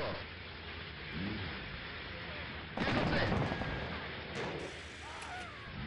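Gunfire in the WWII strategy game Sudden Strike, a steady rattle of shots with a louder burst of machine-gun fire midway, set against a constant battlefield background.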